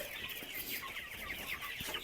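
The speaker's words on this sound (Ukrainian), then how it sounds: "Ось таких 10 голошийок півників відібраних." Naked neck roosters cluck in a farmyard, a steady stream of soft, overlapping bird chatter from a small flock, with one sharper peak near the end.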